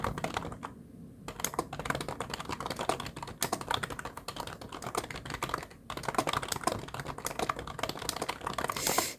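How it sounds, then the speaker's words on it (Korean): Someone types quickly on a loud, clacky computer keyboard, with dense bursts of keystrokes broken by a couple of short pauses, heard close up and alone. "제가 이 타자기를 무음으로 바꿔야 되겠어요."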